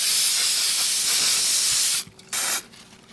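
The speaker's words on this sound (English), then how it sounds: "Get your hairspray and then just spray your bow." Hairspray from an aerosol can misted onto a fabric hair bow: a close, loud continuous hiss lasting about two seconds, then a short pause and a second brief burst.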